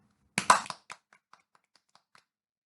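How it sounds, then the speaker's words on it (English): A short burst of hand clapping, several quick claps close together, followed by a few faint scattered taps trailing off into quiet. "If you watched till the end, you deserve a clap."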